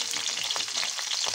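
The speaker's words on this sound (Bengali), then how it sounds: "এই রুই মাছের মাথাগুলোকে লাল লাল করে ভেজে নেব" Rohu fish heads fry in hot mustard oil in a wok, giving a continuous crackling sizzle with light stirring scrapes, close and steady with no talk.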